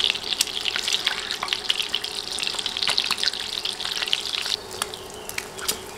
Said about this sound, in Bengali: উল্টে দিয়ে নেড়ে চেড়ে আরও কিছুক্ষণ ভেজে নিব